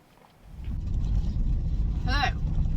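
Camper van driving, a steady close engine rumble and road noise that rises after a quiet start, with a brief voice speaking briefly over it.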